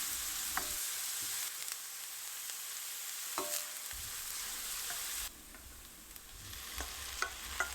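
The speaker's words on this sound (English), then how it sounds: "meanwhile I sauteed onion" Onion sautéing in vegetable oil gives a continuous, bright sizzle with faint stirring scrapes now and then, close and steady throughout with no voices.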